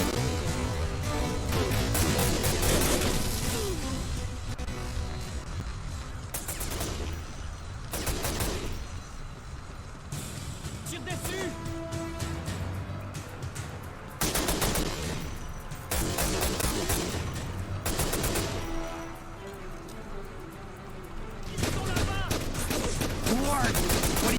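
Gunfire in the video game The Omega Strain, with repeated bursts of shots and heavy impacts that come in clusters over a dense, continuous action soundtrack, loud throughout, with some talk mixed in.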